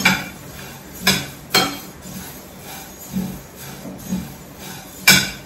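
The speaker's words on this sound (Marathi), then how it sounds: "कमी गॅसवर भाजायची धने" Coriander seeds dry-roasting in a pan over a low gas flame, with sharp metallic clinks and scrapes as the spatula stirs them against the pan at irregular intervals over faint background hiss.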